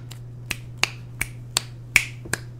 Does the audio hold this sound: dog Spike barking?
no